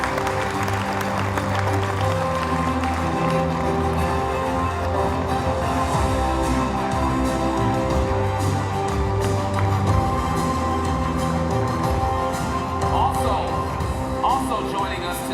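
Audience applause at an awards gala: steady, dense clapping from a large crowd throughout, mixed with music and voices from the hall.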